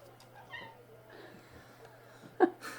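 A domestic cat meows a few times indoors, short faint calls with one louder cry near the end over a steady low hum, while another cat is also around.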